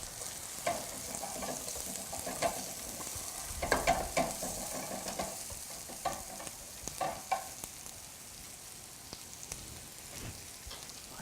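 Onions sizzle and crackle in a pan, a soft steady frying hiss with scattered pops and the scrape of stirring, fairly quiet with no voices.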